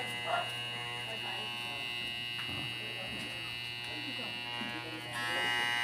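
A steady electric buzz from a hair clipper with a loose motor screw, running with a loose, rattling hum, fairly quiet, with someone talking over it throughout.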